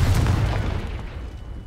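A Confringo spell explodes in Hogwarts Legacy, a single deep booming blast that hits hard at the start and then rolls into a long, heavy rumbling decay with no talk over it.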